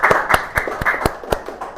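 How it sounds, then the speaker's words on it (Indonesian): A small audience in a teaching session claps for a student group, with scattered, uneven hand claps close by and no voices. "Boleh tepuk tangan dulu dong buat kelompok Leipzig ini."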